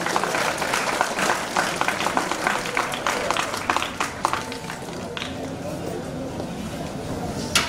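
Audience clapping to welcome a guest at a school's 59th annual day celebration, a dense, sustained patter of many hands with some crowd murmur mixed through.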